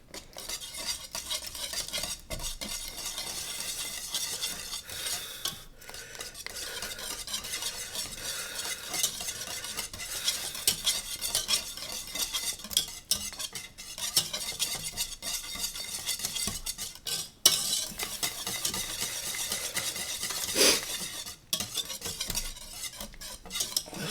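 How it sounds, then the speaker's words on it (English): About four tablespoons of butter being stirred in a pan, a continuous soft scraping and bubbling sizzle with occasional light utensil clinks, steady and close throughout. "Stir the butter."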